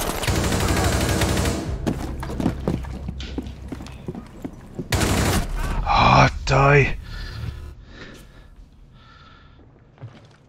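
Rapid gunfire bursts in the Rainbow Six Siege game, with a sustained loud volley at the start and another sharp burst midway, followed by scattered shots and clatter, mixed with game voices and a player talking.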